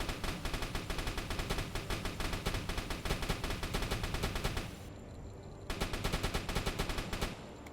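A submarine deck gun in the naval game UBOAT fires high-explosive shells at a ship in rapid, evenly spaced loud shots, close by, pausing briefly near the end before another quick burst; no voices.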